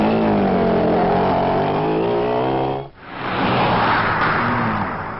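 A car engine drones loudly and close, then cuts briefly before a rougher rushing roar swells back, as if pulling off and driving away, with no voices over it.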